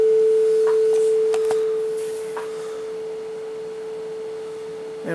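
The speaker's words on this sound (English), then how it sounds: "And we have a sine wave of 440 hertz playing, which would be A above middle C on the piano." A steady 440 Hz sine tone, A above middle C, generated in Audacity, sounds as a pure unwavering pitch held for the whole stretch, loud and alone, with faint clicks at the end.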